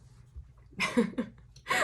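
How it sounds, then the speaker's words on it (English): A single quiet sneeze, with a sharp intake of breath before it and a short burst of air after. "I'm going to sneeze."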